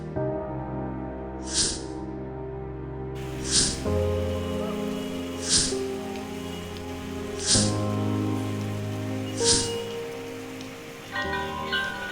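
Steady rain falling with a continuous hiss, overlaid by a sustained musical drone and several soft, evenly spaced bright swells.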